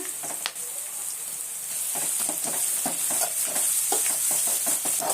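Turmeric sizzling in hot oil in a pan with salt added, a steady bright frying hiss throughout with soft scraping stirs from a spoon, close and fairly loud, no voices.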